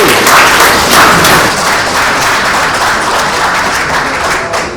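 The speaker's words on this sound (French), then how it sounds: "Applaudissez." Convention audience applauding loudly, a thick, sustained burst of many hands clapping that fades slightly toward the end.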